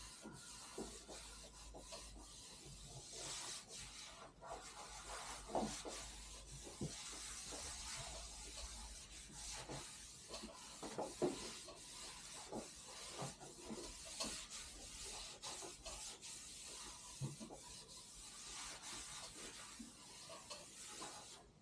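Snowboard base scrubbed with a kitchen towel to get dirt out, a continuous close hissing rub with faint rhythmic strokes and no talking.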